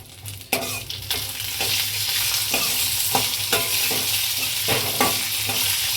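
Green chillies sizzle in hot oil for keema kuzhambu while a spoon stirs them, giving a steady frying hiss with regular scraping knocks against the pan and no voices.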